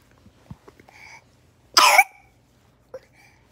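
A child's single sharp cough bursts out in the middle, loud and close, with a few quiet rustles and faint small vocal sounds before and after.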